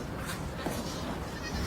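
Goats on a farm bleating continuously, several overlapping calls close by against steady background noise, with no talking.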